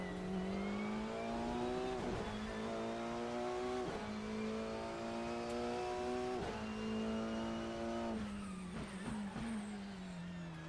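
Simulated GT-MX Macca V8 race car engine in Assetto Corsa, a loud steady rising drone that climbs through the gears with short drops at each shift, close and continuous.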